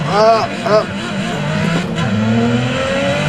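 A race car engine roars at full throttle in the Assetto Corsa racing game, loud and steady with a rising drone, as someone talks over it.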